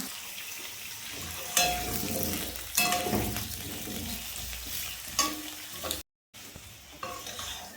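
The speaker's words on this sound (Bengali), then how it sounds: "এখন আলুটা ভেজে নেব" Potatoes fry in oil with a continuous close sizzle, broken by several sharp spatters and stirring knocks, a brief dropout, and then more sizzling, with no voices.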